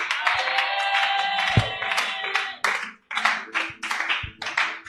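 A church congregation at a tenth-anniversary celebration claps and applauds in acclaim of the Lord, loud dense applause that breaks into rhythmic group clapping, close and filling the room.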